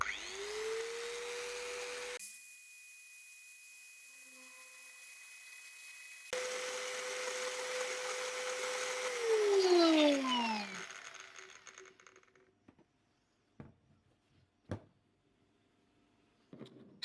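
A Bosch GWS 060 angle grinder whines steadily at high speed, then its tone falls away as it spins down, followed by a few clicks and knocks.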